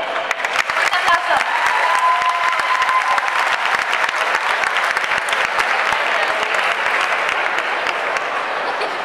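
A large audience at a superhero cosplay contest at the Barcelona comic fair claps loudly and steadily, dense applause filling the whole stretch with a few cheers mixed in.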